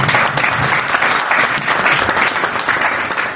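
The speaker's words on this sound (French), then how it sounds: "je vous demande d'applaudir Joe Crapauds." An audience at a poetry event applauds a performer, a loud, steady rush of many clapping hands filling about three seconds.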